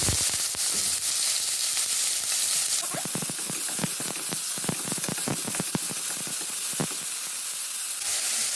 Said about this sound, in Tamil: ஒரு ஸ்பூனு எண்ணெய் ஊற்றிருக்கேன். கொஞ்சம் கடுகு, 2 காஞ்ச மிளகாய், கொஞ்சோண்டு கடலைப்பருப்பு இதை போட்டு தாளிச்சுக்கோங்க.